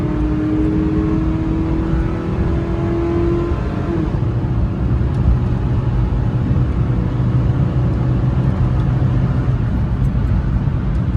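A Honda Logo's engine drones loudly from inside the cabin as it accelerates on a highway, its pitch climbing then settling into a steady roar with road noise, no talking.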